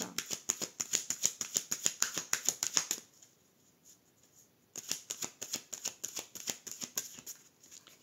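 A deck of tarot cards being riffle-shuffled nearby, giving a fast run of crisp flutters, a pause with soft handling, then a second burst of riffling.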